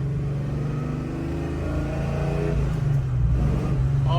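A 1967 Chevrolet Chevelle engine accelerates hard, its loud, steady drone rising in pitch and building in intensity throughout, with no talk over it.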